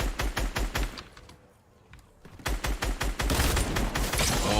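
Rapid bursts of automatic gunfire in a video game, loud and close, firing in quick rattling volleys with a brief lull in the middle before the shooting resumes even more densely.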